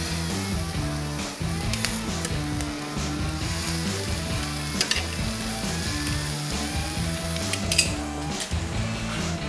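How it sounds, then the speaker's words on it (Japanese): Summer vegetables grill for a curry, giving a steady close sizzle with faint crackles running continuously beneath a low mechanical hum, with no voices. "このグリルしている野菜も反対側もしっかりと焼き目がつけばもう完成ですので"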